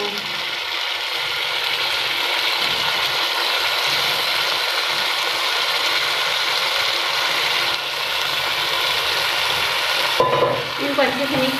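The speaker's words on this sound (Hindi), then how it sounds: "इनको अच्छे से मिक्स कर लेना है और हल्की आंच पे जो है भून लेना है अच्छे से" Potatoes and fenugreek leaves being stirred and roasted in a pan over a low flame, a dense, steady hiss with scraping stirs running throughout, close up, ending with a few sharper clinks and scrapes.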